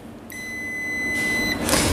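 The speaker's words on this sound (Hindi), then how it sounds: "बीप साउंड सुनने को मिलेगा" A multimeter set to continuity buzzer mode gives one steady high beep lasting just over a second, then a short scrape, while probing a Samsung B310e phone's on/off button circuit.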